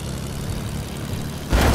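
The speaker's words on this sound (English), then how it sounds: "I wanna land the plane" Propeller plane engine in the video game Fortnite, a steady low droning hum that swells louder at the very end as the aircraft comes in to land.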